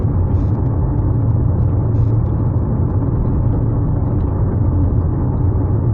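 Dull, even road rumble and faint whir inside a Mitsubishi Outlander PHEV driving smoothly, a steady low hum throughout with a couple of faint ticks and no voices.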